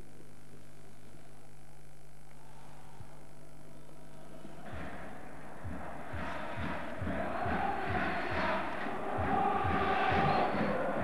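Stadium crowd at a Tunisia vs Algeria African Cup of Nations qualifier football match in 1987, starting as a low hum and swelling into loud, rhythmic chanting and roaring from a large mass of fans.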